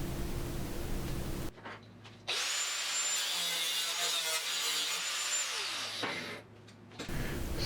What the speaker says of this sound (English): I split the fender right on the corner